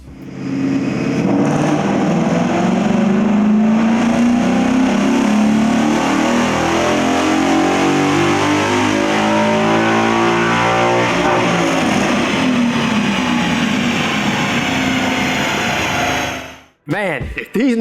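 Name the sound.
Ford Mustang GT Stage 2 Power Pack engine revving on dyno rollers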